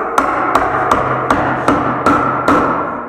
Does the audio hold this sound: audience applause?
no